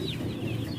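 Day-old chicks in a brooder warmed by a lamp cheep in high, thin calls over a steady low hum, a busy chorus heard close and without pause.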